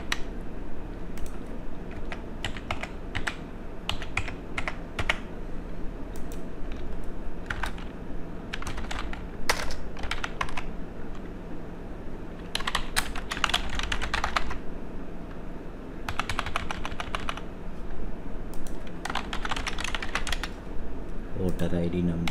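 Steady typing on a computer keyboard while registering users in a Java online voting system, with quick bursts of clicking keystrokes separated by short pauses, fairly close and moderately quiet under a low background hum.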